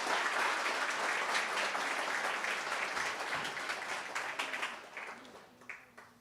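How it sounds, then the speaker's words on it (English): An audience at a commencement ceremony for graduating canine support teams applauds, a sustained wave of clapping in a hall that gradually thins out into scattered claps. "let's give a big round of applause to the 2020 graduating teams."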